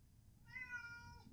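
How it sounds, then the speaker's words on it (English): A single close, clear cat meow, drawn out and slightly rising, over a quiet low background hum. "my cat is meowing"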